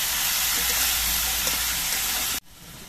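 Vegetables salted and frying in a pan with green chilies, giving a loud, steady sizzle that runs unbroken and then cuts off abruptly just before the end.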